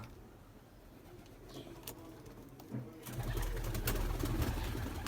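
Ornamental pigeons coo in low, rolling calls that swell louder partway through, with faint chirps and rustling in the background.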